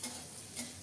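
Shrimp and peeled garlic fry in a small amount of oil, giving a soft, quiet sizzle that is faint and brief.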